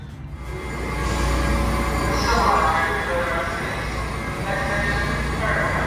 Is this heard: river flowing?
no